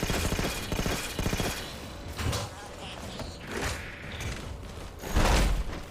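A deployed sentry turret in Halo 4 fires rapid, rhythmic bursts up close for about the first second and a half. Scattered game effects and a voice follow.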